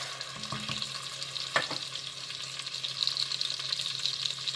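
Chicken pieces sear skin side down in a pan for Moroccan-style lentils with chicken, giving a steady close sizzle throughout with one brief clatter early on.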